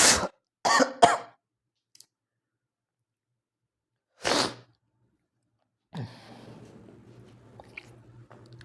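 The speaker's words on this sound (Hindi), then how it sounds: "थोड़ा मौसम चेंज होने की वजह से, ठीक है, कफ वगैरह सर्दी खांसी आने हो गया है जरा हमारा" Several sharp coughs from a teacher with a seasonal cold, a quick burst of three followed by another single cough after a pause, then faint room noise.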